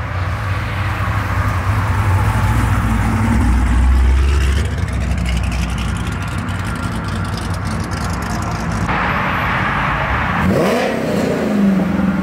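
A twin-turbo convertible Ford Mustang leaving a car meet revs loudly and repeatedly up close, its exhaust rising and falling, with a sharp swell of engine noise near the end.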